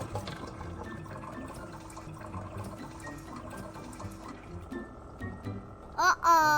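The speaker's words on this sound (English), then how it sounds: "The sound of water hitting the tiled floor made Lily's heart skip a beat." Water overflowing and spilling down onto a tiled floor, a continuous trickling and splashing stream heard at moderate level, with a brief tonal sound at the end.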